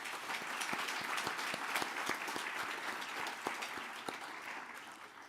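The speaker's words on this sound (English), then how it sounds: "Can we please give a round of applause to the finalists?" Applause from a gala audience honouring awards finalists, a dense steady wash of many hands with individual claps standing out near the front, sustained evenly throughout without a voice.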